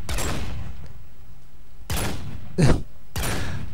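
Gunfire on a Minecraft LimitedWar server, a video game: four separate sharp, loud shots with a second or more between them, the third one heavier and booming, with near silence in the gaps.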